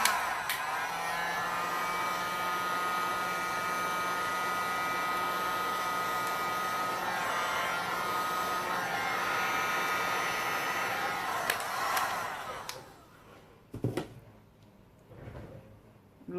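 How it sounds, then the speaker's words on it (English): A heat gun on a low setting blows over resin mixed with a metallic gold pigment, a steady airy hiss lasting about twelve seconds before it cuts off, followed by a few quiet clicks and handling knocks. "Okay, so heat gun is here, just on a low setting because I don't want it flying everywhere."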